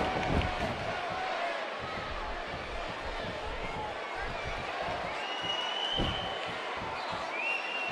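A wrestling crowd in Miami cheers and roars steadily throughout, a dense, sustained wash of noise with occasional thumps and slams rising out of it.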